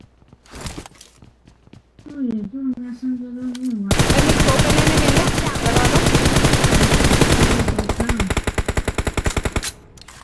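Rapid automatic gunfire rattles loudly for several seconds in a shooting video game, preceded by brief single shots and a voice speaking.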